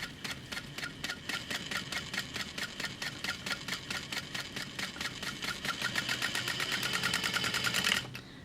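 Sewing machine stitching slowly along the edge of a backpack flap at a 4.5 stitch length, a steady close rapid rattle of needle strokes that speeds up slightly near the end before stopping.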